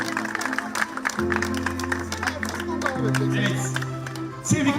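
Audience applause at a Pro Beach Tour beach volleyball award ceremony in Mersin: scattered clapping runs steadily throughout, mixed with sustained music and a brief swell near the end.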